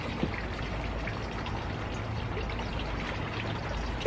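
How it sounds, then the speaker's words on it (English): A small amount of water poured into a houseplant pot filled with LECA clay pebbles, a steady soft trickling wash lasting several seconds, close by and unbroken, with no talking. "I'm just gonna put maybe 1/4 inch of water, so not a lot."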